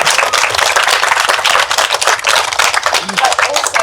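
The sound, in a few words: applause for the panel speakers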